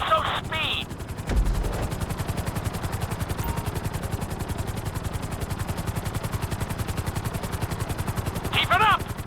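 A helicopter flies in Grand Theft Auto V, its rotor chopping in a fast, steady beat throughout, with brief spoken lines over it near the start and end.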